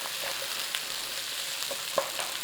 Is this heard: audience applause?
no